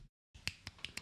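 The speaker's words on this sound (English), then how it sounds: "I see you guys snapping your fingers." Finger snaps, four crisp, evenly spaced clicks close to the mic after a brief silence, quiet overall with no talking.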